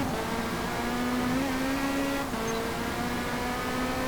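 A Lamborghini LMDh race car in Forza Motorsport holds a loud, steady engine drone at high speed, its pitch rising slightly and then easing back, with no talk.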